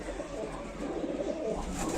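Pigeons in a loft with a balcony, cooing softly in a steady murmur over low background rumble, fairly faint and without talk.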